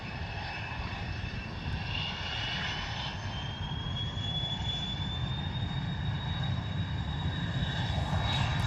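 Small Cessna aircraft landing at London Stansted, a steady engine drone with a faint rising whine, heard from a distance without pause.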